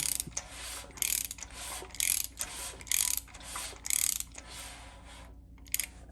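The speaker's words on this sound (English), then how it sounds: "They say to just go 360 and tighten it down." Ratchet wrench tightening the bolts of a Melling 10296 oil pump a little at a time, a series of close rapid clicking bursts separated by short pauses.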